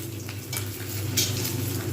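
Boiled eggs coated in chili and turmeric powder fry in hot oil with a steady, close sizzle, broken by a few brief stirring scrapes.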